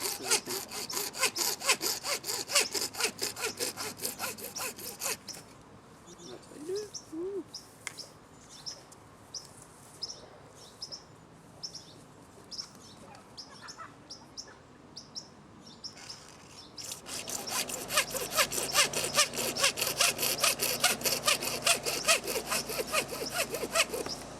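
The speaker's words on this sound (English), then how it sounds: "So we cut all of our PVC pipes." A hand saw cuts through PVC pipe, with close rhythmic rasping strokes in two bursts separated by a quieter pause where birds chirp faintly in the background.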